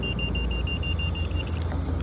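Viper car alarm shock sensor warning on a 2018 Toyota Tacoma pickup: a steady series of high electronic chirps repeating at an even pace, fairly close and loud above a low hum.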